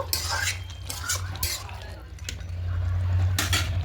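Spoon stirring and scraping soybean and catla fish head curry in a pan, with irregular clinks of utensil on metal over a steady low kitchen hum, close and moderately loud.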